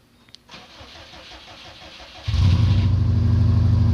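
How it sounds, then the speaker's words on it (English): A manual six-speed Subaru STI starts by remote start on a wet day: a brief crank, then the engine catches and settles into a loud, steady, close idle. "One thing I really love about Yeti is the remote start."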